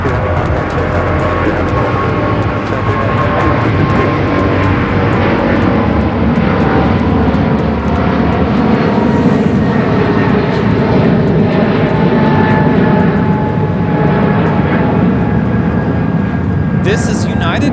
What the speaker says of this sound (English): 3922 taking off to San Francisco on the 777-200ER.